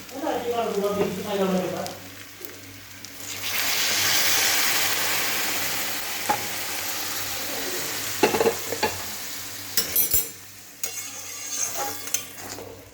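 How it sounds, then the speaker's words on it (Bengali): Hot water poured into a pan of fried kachki fish hits the oil in a loud burst of sizzling, followed by scraping stirs and clinks of the utensil; a voice talks briefly at the start. "ভাজা হয়ে গেছে, এখন গরম জলটা দিয়ে দেবো"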